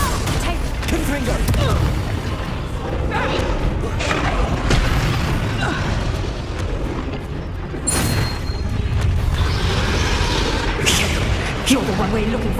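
Confringo blasting-spell explosions from the Hogwarts Legacy game: booming blasts and crashes over dense, steady combat noise and music, with voices speaking through the fight.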